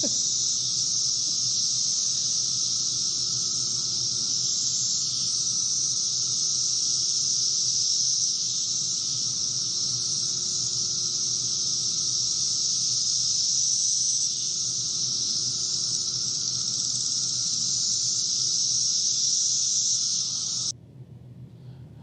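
Cicadas drone in a steady, loud, unbroken buzz through a June summer day in Arlington, the chorus holding level before dropping away abruptly near the end.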